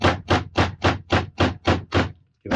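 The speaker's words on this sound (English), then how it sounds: "give it a couple of smacks with a hammer" A hammer strikes a metal fastener set on canvas to leave an imprint for a foredeck staysail bag, eight sharp, evenly spaced smacks close up followed by a brief pause and one more hit.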